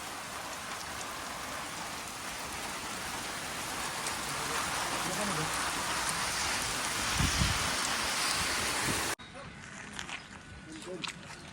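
Steady monsoon rain pours down loudly for several seconds, a dense hiss, then abruptly drops to a quieter background with scattered sounds, at a roadside tea stop in Tamhini Ghat.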